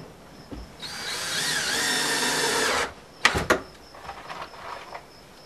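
A power drill drives 2-inch screws into a corner stall feeder, whirring steadily for about two seconds with a rising and falling pitch, followed by a few short clunks and faint handling noises.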